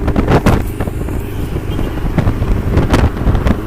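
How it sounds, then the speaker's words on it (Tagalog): Strong headwind during a cycling road race roars steadily across the microphone, buffeting loudly with gusty bursts throughout. "Strong headwind."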